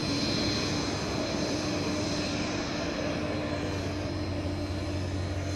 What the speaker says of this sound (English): So then the starter can go from here with all 3 engines successfully running